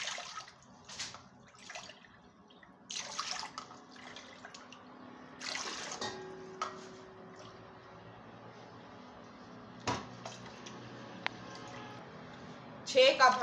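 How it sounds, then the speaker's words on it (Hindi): Water poured from cups into a wok (kadhai) to make semolina halwa: several bursts of splashing and trickling, separated by pauses, with a voice speaking at times. "छः कप हमने पानी के इसके अंदर शामिल कर दिए हैं।"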